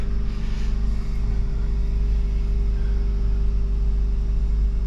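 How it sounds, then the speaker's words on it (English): A Honda Civic Type R FL5 idles just after a cold start at just under 1500 RPM, a steady low, even engine hum with no variation throughout. "Engine's idling at about just under 1500 RPMs."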